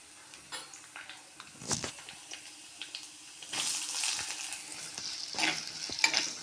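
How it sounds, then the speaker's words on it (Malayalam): Sliced onions dropped into hot oil with chopped garlic and ginger and sautéed, a fairly quiet sizzle with scattered stirring clicks that grows louder and denser in the second half, no voices. "സബോളയൊന്ന് നമുക്ക് നന്നായിട്ട് വഴറ്റിയെടുക്കാം."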